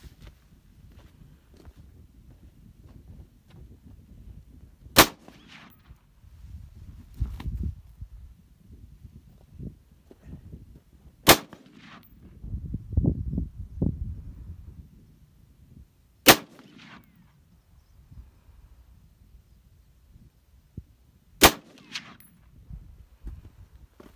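Four gunshots fired at Tannerite targets outdoors, sharp loud cracks spaced several seconds apart, with low rumbling handling noise and indistinct talk in the gaps.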